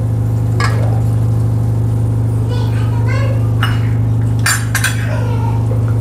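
A spoon stirs cashews, almonds, coconut and raisins into rice kheer in a pan, giving light metallic scrapes and clinks over a steady low hum, with a few louder knocks near the end.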